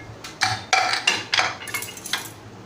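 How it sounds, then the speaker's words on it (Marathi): Metal clanks and scrapes in a quick series of clinks as a pressure cooker lid is handled and lifted after cooking rice, close and fairly quiet. "असं कुकर ओपन करते झाकण"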